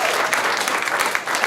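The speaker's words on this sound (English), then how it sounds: "Give yourself one more round of applause." A town hall crowd claps steadily in a brief, dense burst of applause, even and fairly close with no voices over it.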